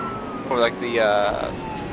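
A police car siren in the video game Midnight Club 2 rises and falls in one short wail, a synthetic-sounding sweep over a steady background hum.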